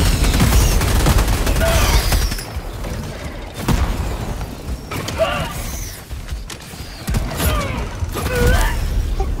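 Stalwart machine gun fire in Helldivers 2, loud bursts of rapid automatic shots with mechanical clatter and booms, continuing through most of the clip amid game effects.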